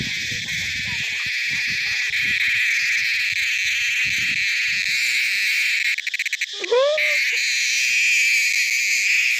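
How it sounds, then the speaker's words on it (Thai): Cicadas in tall trees keep up a loud, continuous high-pitched buzzing drone throughout. Low voices murmur under it early on, and a brief squeaky call cuts in near the middle. "เสียงจักจั่นนะหลายทุกคน"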